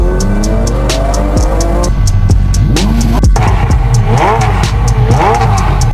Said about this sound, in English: Just you, a screaming V12.